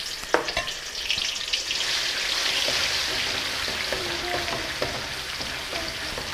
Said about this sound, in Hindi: अब हम इसमें लहसुन और अदरक का पेस्ट शामिल करेंगे 1 टेबलस्पून